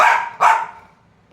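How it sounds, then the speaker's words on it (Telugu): Dogs bark outside in two loud, sharp bursts close together, then fall quiet before a further yelp begins at the end. "కుక్కలు అరుస్తున్నాయి బయట."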